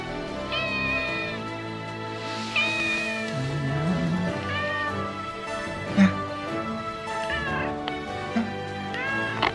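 A cat meows repeatedly at an irregular pace in England, several drawn-out mews close by over a background of low murmuring and ambient noise.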